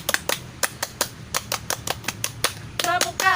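A scout group claps the Pramuka rhythmic clap, a quick pattern of sharp, evenly spaced claps, ending in a short shouted vocal burst.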